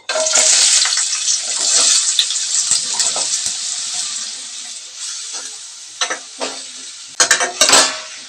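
Bottle gourd pieces hit hot oil with a loud burst of sizzling that slowly eases off, followed by a few sharp scraping and clattering stirs near the end, with no one talking.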